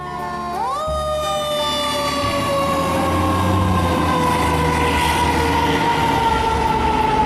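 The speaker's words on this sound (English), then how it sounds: "Fire engine." A toy fire engine's electronic siren starts with a quick rising sweep, then holds a loud, continuous wailing tone close by, with no talking.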